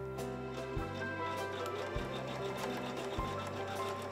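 A sewing machine runs steadily, stitching hand-dyed fabric in a fiber art studio, its motor humming continuously with a faint mechanical rhythm and brief low thumps roughly every second and a half.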